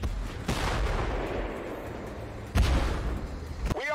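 Tank cannon shots in the PC video game TF, heavy booms landing at about half a second and again near two and a half seconds over a constant rumbling game background.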